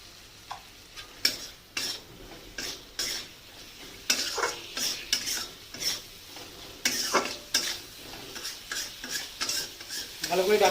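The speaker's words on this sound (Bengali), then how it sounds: "ভালো করে ডাটার সঙ্গে মশলাটাকে কষাতে হবে।" Spice paste and soaked drumsticks are stirred and sautéed in a hot pan for a tilapia curry, with repeated scraping spoon strokes and clinks over a steady sizzle, close and without talk.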